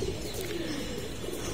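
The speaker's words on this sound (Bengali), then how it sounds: "আজকে কবুতরগুলা সকালবেলায় ছাড়া হয়েছে সবগুলাকে রোদ খাওয়ানোর জন্য।" Pigeons coo softly in the morning after being let out of their loft, a low murmuring call over faint outdoor background, brief and moderately near.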